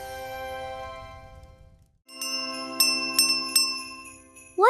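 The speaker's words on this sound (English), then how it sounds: "What a nice bell!" A Christmas bell rings out clearly, a bright sustained chime fading away, then after a short gap several rhythmic ringing strikes with shimmering overtones, close and loud with no talking.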